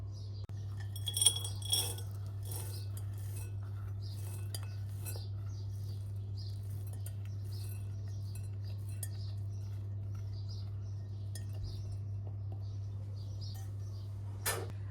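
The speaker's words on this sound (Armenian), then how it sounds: "Որից հետո 4 բաղադրիչները խառնելու ենք իրար" A utensil stirs and mixes cake ingredients in a bowl for a Kyiv cake, with soft scraping and occasional light clinks against the bowl, faint over a low steady hum.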